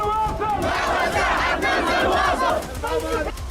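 A huge crowd of thousands at an armed rally in Yemen shouts and chants together in loud, continuous massed voices, dropping briefly near the end before surging again.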